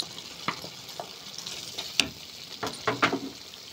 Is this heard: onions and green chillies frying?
yes